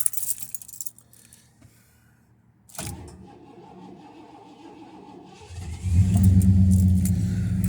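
Keys jangle close by, and then the engine of a 1982 Ford LTD S cranks and catches, settling into a loud, steady idle.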